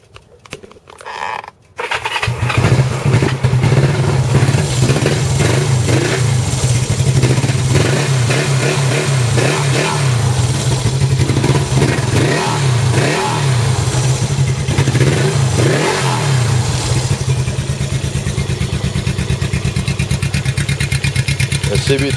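A 1975 Honda CB360 with a Mac 2-into-1 exhaust and a 2013 Honda CB1100 fire up close by, then idle and rev, a loud continuous engine rumble with repeated throttle blips that persists for about twenty seconds.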